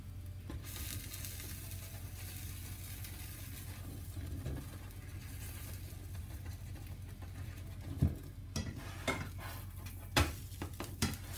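A cheese naan cooks in a hot pan with olive oil, giving off a steady low sizzle, broken near the end by a few sharp clinks and knocks of a utensil against the pan.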